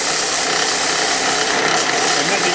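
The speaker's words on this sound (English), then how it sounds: "Now when I'm working with 2x4 material, I start off pretty heavy. I'm using 60 grit sandpaper." Sixty-grit sandpaper rasps hard against a used 2x4 bud vase spinning on a wood lathe, a loud, continuous, close gritty hiss with no pauses.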